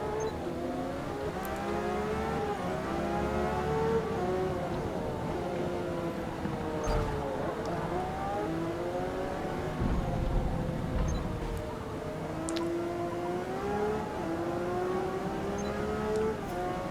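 Race car engine sounds from the Assetto Corsa EVO racing game, with a steady harmonic drone that rises and falls through gear changes and revs, continuous and fairly loud for the whole stretch.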